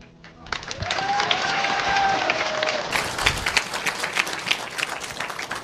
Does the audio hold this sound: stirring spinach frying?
no